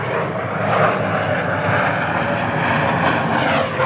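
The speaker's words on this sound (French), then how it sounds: "Tu vois, il y a un avion qui passe encore." An airplane passing overhead, a loud, steady broadband engine roar that fills the whole clip without fading.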